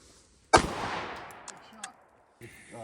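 A single sharp, loud gunshot fired from a firearm at an outdoor shooting range, with a ringing decay trailing off and a couple of faint clicks afterward, then a voice speaking briefly near the end.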